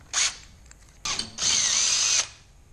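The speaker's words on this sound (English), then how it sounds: "So now I'll drill that one with a slightly smaller bit," A small power drill with a 1/8 bit boring a hole while building a remote start for a portable generator: a short whir, then a longer steady high-pitched run, loud and close with no talk.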